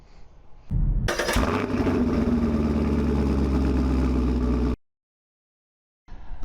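An MJX Hyper Go 10208 RC car drives with a loud, steady electric motor whine and rumble that starts abruptly and then cuts out completely. It returns briefly at the very end, close and with no talking.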